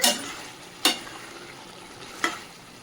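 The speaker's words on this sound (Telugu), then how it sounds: "ఒకసారి మళ్ళీ కలిపేసుకుందాం." A spoon stirs homestyle chicken curry in a pan, giving three distinct scraping strokes, at the start, near 0.8 s and near 2.3 s, over a low, steady sizzle of frying.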